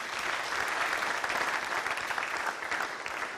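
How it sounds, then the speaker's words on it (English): A seated conference audience keeps up a continuous, even round of applause, heard close and fairly full, with no voices on top. "Please, a round of applause for him again."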